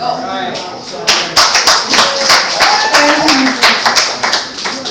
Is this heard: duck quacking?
no